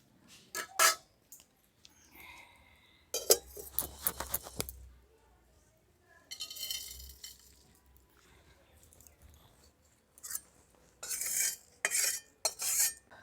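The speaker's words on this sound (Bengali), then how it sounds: "এগুলো সব আমি শুকনো কড়াতে ভেজে নেব।" Dry spices being stirred and roasted in a dry wok, with scraping, clinking spoon-on-metal bursts in several separate clusters and quiet gaps between them, close up with no talk.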